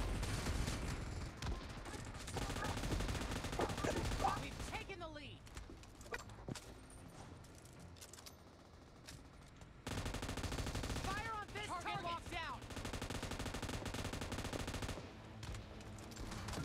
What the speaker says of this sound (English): Fire on this target!